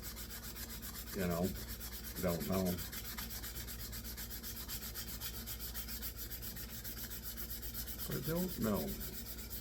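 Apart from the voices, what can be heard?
sanding a briar tobacco pipe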